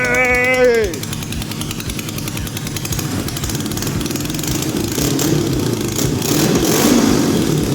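A homemade kart with a motorcycle engine cranks and then catches. It settles into a loud, close, chugging idle with rhythmic pulses and rises in a few revs, while a person talks over it.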